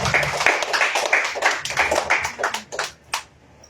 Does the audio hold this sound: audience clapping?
yes